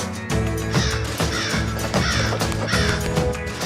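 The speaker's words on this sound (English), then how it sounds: "Crow." A crow caws repeatedly over a dense, loud music bed, several harsh calls spaced roughly evenly across a few seconds.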